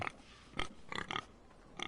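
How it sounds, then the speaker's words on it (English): A pig grunts and oinks in the Forrester lands of the Game of Thrones video game, with about five short, fairly quiet snorts in uneven bursts separated by brief pauses. "Pig."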